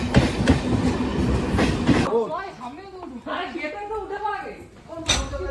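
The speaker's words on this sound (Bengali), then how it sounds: "ট্রেন কিন্তু আমাদের ঢুকে গেছে" A passenger express train pulls into a station near Kolkata, its rumbling wheels and carriage noise loud at the start, then easing as voices chatter nearby.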